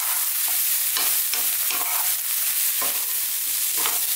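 Eggplant and chickpeas frying over high heat, with a steady sizzle and repeated scraping stirs of a spoon against the pan, each stroke close and distinct.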